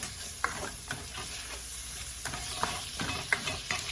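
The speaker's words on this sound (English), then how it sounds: "So we're going to keep stirring." Shrimp and chicken fried rice in olive oil is stirred in a pan, with soft sizzling and intermittent scraping clinks of the utensil.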